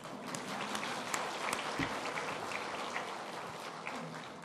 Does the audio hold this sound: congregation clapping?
yes